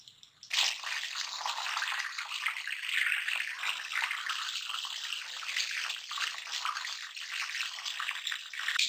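Chicken popsicles frying in oil over medium heat give a steady, bright sizzle and bubbling hiss, starting abruptly and continuing evenly at moderate loudness.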